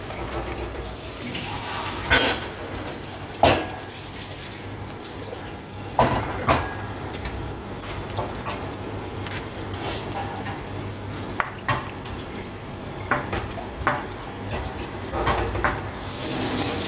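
Tofu frying in butter in a pan gives a steady, soft sizzle, broken by irregular clinks and scrapes as it is stirred, with a few sharper knocks of a utensil against the pan.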